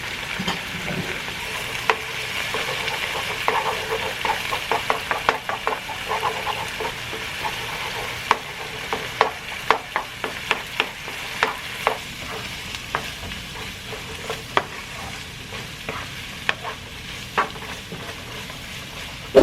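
Eggs cook in a pan for lobster butter fried rice, a soft continuous sizzle under a run of sharp utensil scrapes and taps that grow more frequent, no talking.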